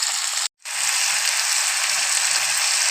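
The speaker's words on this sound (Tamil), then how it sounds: "சேர்த்து வதக்கிட்டே இருந்தோம்னா கொஞ்சம் கொஞ்சமாக போட்டு வதக்கிக்கணும்." Coriander and curry leaves sauté in a pan for a chutney, making a steady, close hiss of frying that cuts out briefly for a split second before resuming evenly.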